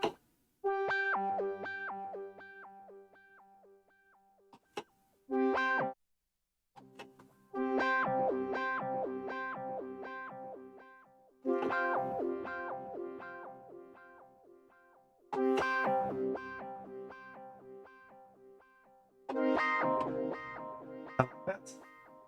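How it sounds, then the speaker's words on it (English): Synthesizer patch on a Minifreak or Hydrasynth run through a long three-quarter-second delay, sustained notes and chords repeating in echoing phrases with brief gaps, loud and processed, no talking. "see what happens if I do a relatively long delay"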